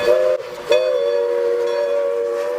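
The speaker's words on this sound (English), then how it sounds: "This steam train was the basis for the steam locomotive in the Polar Express movie." Loud, sustained steam whistle from the steam locomotive that was the basis for the Polar Express, a close, steady chord-like blast with a brief dip and restart before holding on.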